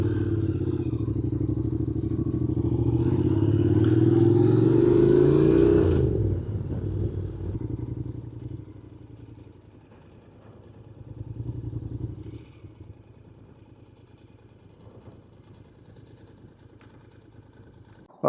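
A motorbike engine rides loud and close, then drops back to a steady idle with some clatter, on a road near a car park at Camber Sands.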